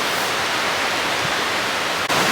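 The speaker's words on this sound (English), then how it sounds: "It's like one of the smaller waterfalls." Small waterfall on a stream in the Lake District near Windermere, a steady broadband rush of falling white water, continuous and close, with no voices.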